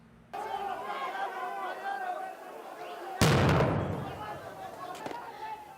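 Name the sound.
dynamite explosions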